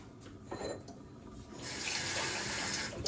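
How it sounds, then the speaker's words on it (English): Water runs from a tap, starting softly with a few splashes and then gushing steadily and loudly into a vegetable soup pot, close by. "I'm going to add some more water."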